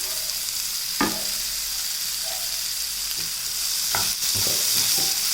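Onions and green chilies frying in a pan with cumin seeds, a steady close hiss and sizzle throughout, broken by a few scraping stirs of a spoon, with no voices.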